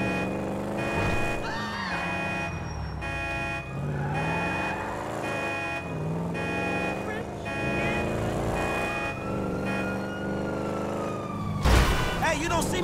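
Police sirens wail continuously in Grand Theft Auto V, rising and falling tones layered over engine and traffic noise throughout, loud and close, with a sharp burst near the end.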